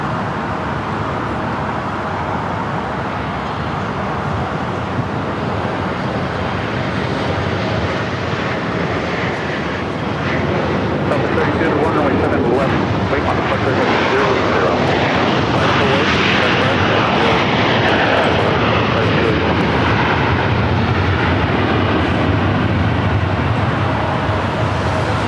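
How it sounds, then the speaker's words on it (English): A Delta Airlines Boeing 737-900ER jet arrives at LAX airport in challenging weather, its steady, loud engine roar swelling slightly midway and continuing for about twenty-five seconds with faint background traffic noise. "Delta Airlines flight 841, coming in from Salt Lake City, a 737-900ER."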